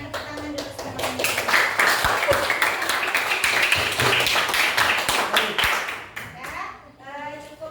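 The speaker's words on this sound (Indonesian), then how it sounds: "Hasil kerja kelompoknya tepuk tangan dulu semuanya." A classroom of children claps for group work, brisk close hand claps that swell into a lively round then break off, with children's voices chattering near the end.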